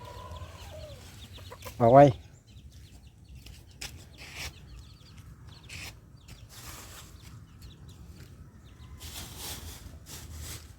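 Small farm chickens cluck softly and intermittently at close range, with one brief louder squawk near the start, under quiet rural background noise and occasional speech.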